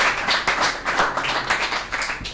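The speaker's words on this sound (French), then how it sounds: "Est-ce qu'on peut les applaudir très fort?" Dense applause from a crowd, steady and sustained clapping with no voices standing out.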